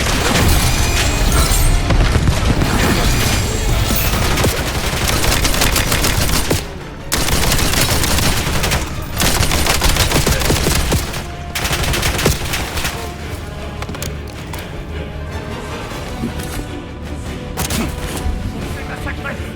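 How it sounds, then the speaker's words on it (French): Heavy gunfire and a frag grenade blast in the Black Ops 7 solo mission Quarantaine: loud, continuous automatic bursts and booms fill the whole stretch, briefly dipping before resuming, with voices shouting in the mix. "Grenade ennemie. Grenade frag envoyée."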